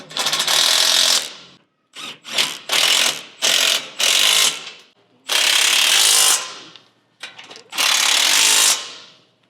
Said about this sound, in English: I'm just going to go through and get everything tightened.